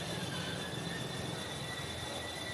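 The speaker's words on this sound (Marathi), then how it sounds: "2:17 की विरार जाने वाली तेज लोकल प्लेटफॉर्म क्रमांक 5 पर आ रही है." A fast local train bound for Virar pulls into platform 5 of a suburban rail station, a steady dense rumble and rail hiss with a faint high whine, continuous and fairly loud throughout.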